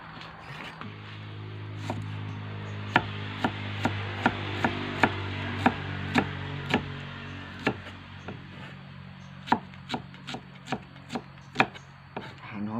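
A knife chops rhythmically on a cutting board, a run of sharp, close taps that speeds up toward the end.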